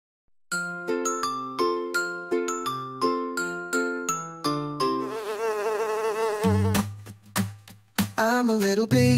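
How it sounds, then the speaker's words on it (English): A children's song opens with bright plucked melodic notes, then a loud, close buzzing bee effect takes over, followed by a few deep thumps and more buzzing. "I'm a little bee, buzz, buzz, buzz."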